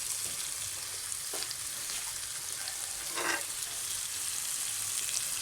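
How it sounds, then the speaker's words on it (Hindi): Chicken liver (kaleji) frying in masala and ghee, being turned in the pan: a constant loud sizzle with a few soft scraping strokes as the pieces are flipped. "ज़रा मैं पलटी करूँगी ताकि कि मसाला इसके अंदर मिक्स हो जाए"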